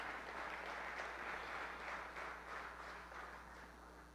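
A church congregation breaks into sustained applause to acclaim the Lord, a dense wash of clapping from many hands that holds steady and then slowly fades, heard from some distance.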